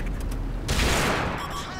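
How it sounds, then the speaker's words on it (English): Artillery fire booms in a tank battle video game as a sudden loud burst of explosive noise that swells and rumbles over a second before fading. "Artillery is coming."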